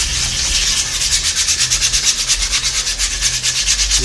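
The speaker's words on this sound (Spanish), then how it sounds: "Una lija 220, que quedaría bien." Rhythmic back-and-forth rasping of 220-grit sandpaper rubbing a hard plastic part to dull its paint, close and steady, with strokes growing more regular as it continues.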